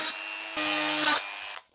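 A power drill bores into a 3D printed boat bottom for an RC jet boat, giving a short close high whir in two bursts lasting under two seconds, then stopping.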